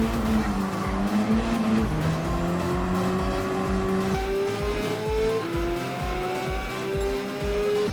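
Hyundai Elantra N in Gran Turismo 7 on a track time trial, engine note dropping under braking then climbing again, with continuous tire squeal and skidding through the corner, loud and steady throughout.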